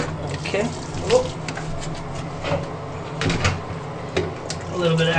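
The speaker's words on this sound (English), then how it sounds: "A little bit of extra water came out there." Water splashing and spilling from a toilet as its fill valve is pulled out, heard close in short bursts over a running background, with someone talking at times.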